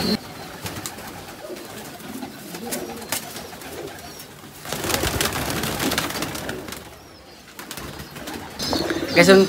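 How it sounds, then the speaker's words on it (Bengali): Several pigeons kept outdoors near hens coo softly at close range, their low murmurs mixed with rustling, brief wing flutters and other scattered background noise. "বাইরে দেখেন অনেকগুলো কবুতর।"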